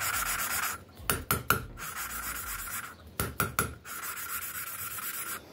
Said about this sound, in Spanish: cuando ustedes están esmerilando, escuchan el ruido que está haciendo